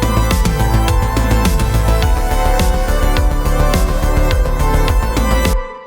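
A dense synthwave backing track with the drum part driven by a single hi-hat, its steady ticking blended with thumping kick, snare and thick synth layers; loud and continuous, cutting off abruptly at the end.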